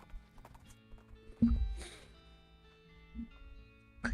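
A few scattered horse hoof clops in the video game West of Loathing sound at moderate distance, followed by a brief thud and faint clatter, with quiet gaps between.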